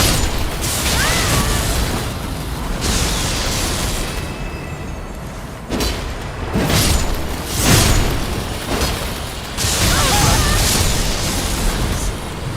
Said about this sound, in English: that might be an explosion